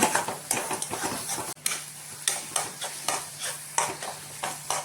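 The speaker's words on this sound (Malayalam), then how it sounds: "നല്ലതായിട്ട് ഇളക്കി ചേർക്കണം മുളക് പൊടികളൊക്കെ" Chili powders are stirred into a Kerala-style fish masala in a pan, repeated rhythmic spoon scrapes and clacks against the metal over a low sizzle, close and clear.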